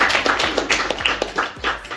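A small group of people applauding themselves at the close of a Jamaica versus Nigeria cooking contest, with uneven bursts of claps that rise and fall over a couple of seconds.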